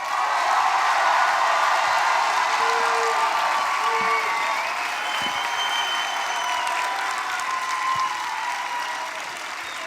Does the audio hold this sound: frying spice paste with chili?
no